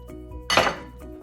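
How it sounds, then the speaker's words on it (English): Broccoli and cauliflower tipped into a pot of Creole okra stew make a single loud metallic clank and rattle that fades within half a second. "it is time to put in my broccoli and my cauliflower"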